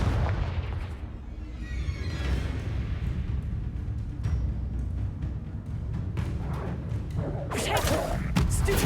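A Confringo fire spell bursts in Hogwarts Legacy with a whooshing cast and booming explosive thuds over continuous rumbling combat noise, with a bright crackling blast flaring near the end.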